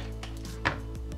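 A knife cuts ham on a board, one crisp chop landing close by over a low steady background hum, with no talk.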